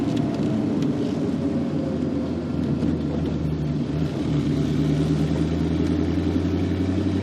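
A 1966 Ford Mustang restomod's engine rumbles steadily and loud while downshifting through the gears, a continuous low drone with no speech.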